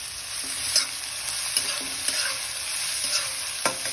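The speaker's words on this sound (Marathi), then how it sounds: "गोल्डन होईपर्यंत कांदा भाजायचा" Finely chopped onion frying with mustard seeds, cumin, bay leaf and cinnamon in a pan, a dense steady sizzle with light stirring scrapes now and then, close and without speech.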